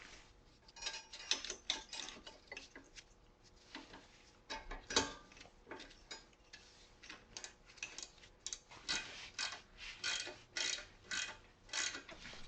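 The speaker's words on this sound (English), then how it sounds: "Use the torque wrench to tighten." Torque wrench clicking and ratcheting while tightening brake caliper bracket bolts on an Audi S4/S5 B9 to 200 Nm, a steady run of close, sharp mechanical ticks and clicks in irregular bursts, with no talk.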